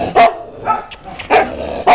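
Kennel dogs bark in sharp, loud bursts during a minor scuffle: four distinct barks spaced unevenly over two seconds, with quieter yips and whimpers between them and no talk.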